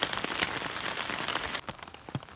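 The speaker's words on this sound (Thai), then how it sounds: "ส่วนหลายฝนตกแบบนี้ ตกทั้งวันทั้งคืนเลย" Heavy storm rain pours down steadily in rural southern Laos, a dense hiss of drops close by with a few sharper spatters and one brief dip near the end.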